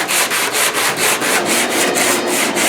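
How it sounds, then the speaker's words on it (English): Hand sanding a Cutlass car body with an 80 grit block over a sunroof patch repair: steady, rhythmic back-and-forth scraping strokes, close and loud, about four strokes per second with no pauses. "I used this block with 80 grit, and I went around the whole thing"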